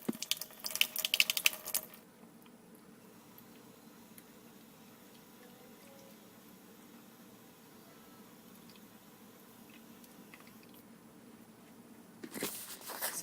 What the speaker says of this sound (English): I'm going to take it over to the sink.